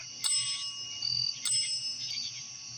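A bell rings in short bursts during a ghost hunt, with a steady high electronic tone underneath and a few sharp spikes, fairly close and without talk.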